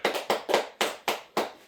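Church congregation clapping in unison, six sharp separate bursts in a steady rhythm, close and clear with no talk.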